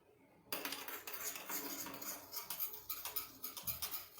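A spoon stirs a small measure of spices, including turmeric, in a bowl, giving close, steady scraping and clinking strokes with no talk.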